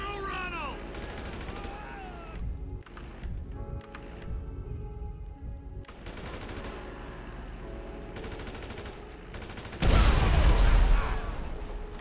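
Gunfire in GTA V rattles in repeated bursts and scattered shots over steady game noise, swelling into a loud, dense volley near the end.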